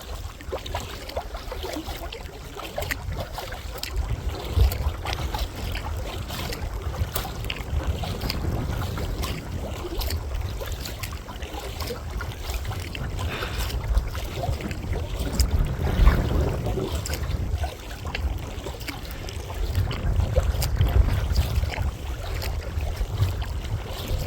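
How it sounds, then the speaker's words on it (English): Wind buffets the microphone while a kayak is paddled on a creek, giving a steady loud rumble and gusting roar with faint water sloshing and no voices. "The wind's in our face, I'll keep going."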